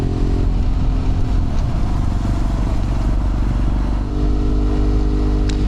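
A BMW F800R motorcycle fitted with a HealTech quickshifter, heard up close with a loud, steady engine drone that breaks briefly as the gear changes, then pulls on at a new pitch.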